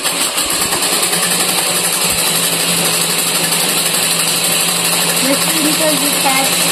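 A machine used to make a bag from a sack runs with a steady mechanical whir and hum throughout, with a few faint voice-like sounds late on.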